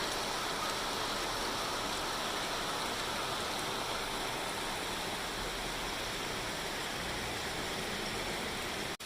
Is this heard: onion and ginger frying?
no